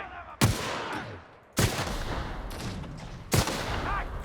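Three heavy gunshots from a weapon in the video game The Outer Worlds, loud sharp blasts spaced about a second apart, each trailing into a rumbling decay.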